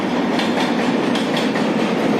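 A train crossing a bridge over a river, a loud, close, continuous rumble with rhythmic wheel clatter filling the whole stretch.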